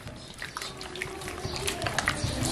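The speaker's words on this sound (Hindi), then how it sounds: "अब ये इसके ऊपर ये लहसुन का पानी शामिल कर देंगे" Garlic-and-turmeric water is poured over a whole chicken being prepared for sajji, making a steady soft trickle and splash that grows slightly louder toward the end.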